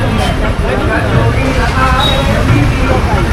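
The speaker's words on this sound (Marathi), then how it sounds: "ट्रॅफिक झाली आहे ट्रॅफिक मित्रांनो" Dense traffic roar fills a busy market street, with engines, buses and road rumble close and loud throughout and a crowd babbling beneath.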